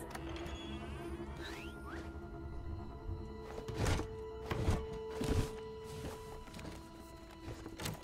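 Rattling thunks of a locked door handle being tried in The Amazing Digital Circus video game, a few clunking jiggles over a steady low hum of background music.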